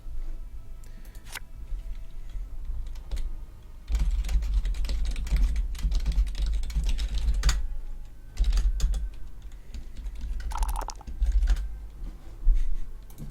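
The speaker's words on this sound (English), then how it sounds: "Sorry, typing hard." Fast, hard typing on a computer keyboard during an online stream of Talisman Digital Edition: a dense, continuous clatter of keystrokes, loud and close, with brief lulls and heavier bursts.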